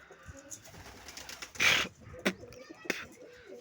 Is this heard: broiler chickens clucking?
no